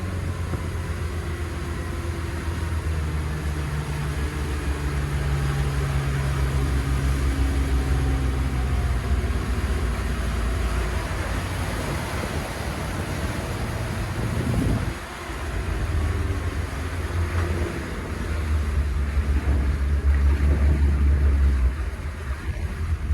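A Cobalt 24SD boat powered by a 320 HP MerCruiser 377 MAG with Bravo III drive, cruising on water around 3,000 RPM at about 20 knots, gives a steady loud engine drone with rushing water and wind noise and one brief dip.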